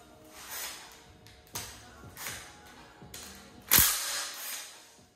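A socket wrench works small bolts on a spare 16-valve 4AGE engine during a teardown. Several sharp metallic clicks and taps come at uneven intervals, fairly faint and close, with no talking.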